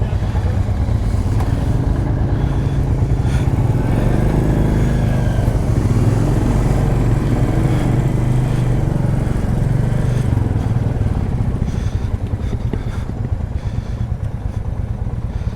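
Royal Enfield 350 Classic motorcycle engine idling steadily and loudly up close, a continuous low thumping rumble that holds throughout with little change.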